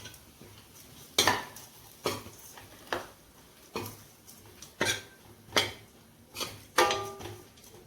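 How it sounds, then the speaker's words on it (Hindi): Spoon scraping and stirring ground dry dates roasting in ghee in a pan, with about nine separate clattering knocks at an irregular beat over a quiet low hiss. "अब मैं इसमें 1 चम्मच घी और डालूंगी और इसमें अब मैं छुआरों को भूनूंगी"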